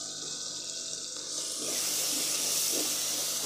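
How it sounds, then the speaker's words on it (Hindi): Water poured into a pan of hot spiced masala for a peas-and-egg curry sets off a steady hissing sizzle that swells after a quieter start and holds, fairly close, with no talking. "हल्का सा मैं इसमें पानी डालूँगी।"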